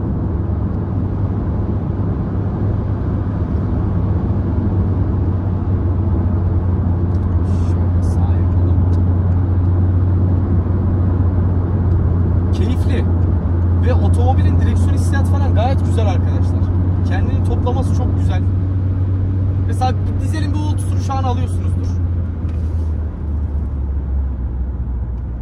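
Interior of a Citroen C4 1.6 HDi 92 hp diesel hatchback accelerating steadily at highway speed, a continuous low engine drone and road hum that swells slightly, with someone talking over it throughout.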